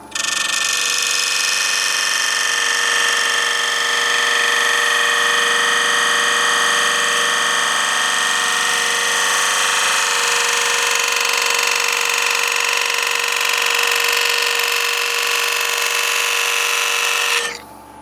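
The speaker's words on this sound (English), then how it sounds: "I've just gone down the edges with the Ashley Isles box scraper" An Ashley Isles box scraper drawn along the edge of a wooden lidded box, giving a steady, close, bright rasping scrape that holds evenly for about seventeen seconds before cutting off, with no talking.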